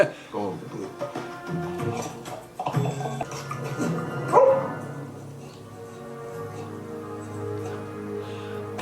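A dog barks and yips in a few short bursts mixed with talk and background sound from a TV crime drama, the barking louder early on and fading into softer noise.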